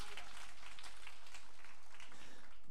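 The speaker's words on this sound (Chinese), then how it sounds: "俾掌声啊 Brian 先咁样吓" Audience at an indoor talk on family of origin applauds, a soft, steady wash of clapping heard from a distance for the whole moment.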